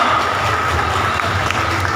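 Applause for police and Dolphin patrol at an Independence Day eve event, a dense burst of clapping from a crowd, loud at first and then settling into a steady wash.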